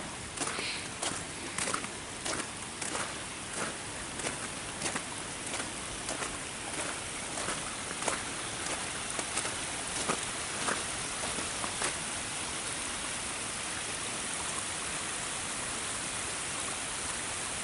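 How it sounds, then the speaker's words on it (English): A small waterfall on the Black River Trail keeps up a steady, broadband rush of falling water. Wind may also add to it, and a series of sharp, regular clicks sits on top during the first part. "Nice little waterfall right here, though."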